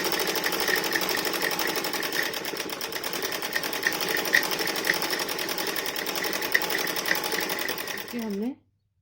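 A sewing machine stitches a dhoti salwar in one continuous, fast rhythmic run of needle clatter, close and steady, stopping abruptly near the end.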